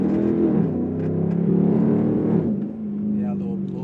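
A straight-piped Dodge Durango accelerates on city streets, its deep, loud exhaust drone rising and falling through the cabin, with someone talking over it.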